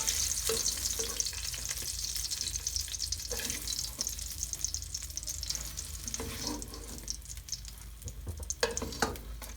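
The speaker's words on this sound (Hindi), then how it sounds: "बैंगन अच्छी तरह से फ्राई हो चुके हैं।" Eggplant pieces sizzle steadily in hot oil in a frying pan, a constant close crackle with occasional stirring clatters and louder spits, no voices.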